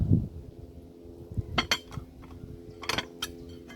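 A metal cooking pot handled over a campfire while making bread, with a dull knock at the start followed by scattered clinks and clanks of the lid and metal, fairly close and quiet.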